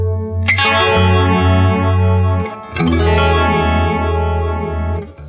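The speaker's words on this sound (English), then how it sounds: "So it's just like a nice standard phaser now." Sustained electric guitar notes run through a phaser pedal set to a sine-wave sweep, with a smooth, sweeping whoosh rising and falling evenly; two chords ring out in turn.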